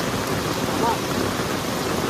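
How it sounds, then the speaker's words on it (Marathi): Steady rain falls in a village in June, making a dense, even hiss throughout the short stretch with no breaks. "पाऊस बघा अजून जून चालू झाला."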